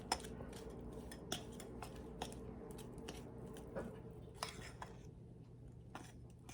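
A fork works melted butter into a crumb topping for zucchini crumb cake, producing faint, irregular clinks and scrapes against a bowl, close by and quiet.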